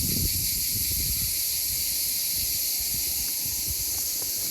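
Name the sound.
crickets chirping loudly in a Spanish village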